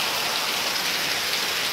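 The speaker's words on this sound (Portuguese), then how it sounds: "muita chuva aqui em Parnamirim" Heavy rain falling in Parnamirim, a dense, steady hiss of downpour close by and continuous, with no other sounds.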